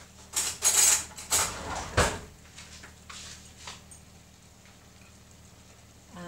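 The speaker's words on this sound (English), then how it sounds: "Right, so let's get a teaspoon." Cutlery clattering as a teaspoon is picked out from a drawer in a home kitchen, a few close metallic clinks and rattles at the start, then fading to quiet room tone.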